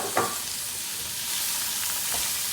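Tiger prawns and scallops sizzle steadily in a hot pan, a close, continuous frying hiss with a brief stir or flip near the start and no voices.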